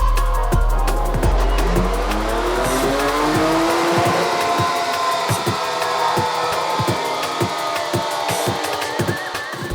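Mazda MX-5 race car on a track, loud close engine roar with rising and falling revs through gear changes and repeated sharp clicks and knocks, tires squealing over a continuous driving rumble.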